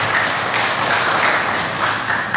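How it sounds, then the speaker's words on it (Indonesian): A village audience gives a round of applause for Penyangkran village, steady, close and loud clapping with no talk over it. "Tepuk tangan untuk desa Penyangkran karena ada latihan."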